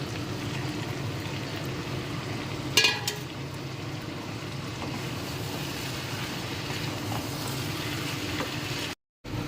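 Fried prawns sizzle in hot oil as they are stirred into a Bengali prawn curry, a steady loud frying hiss with a brief clatter early on and a short cut near the end.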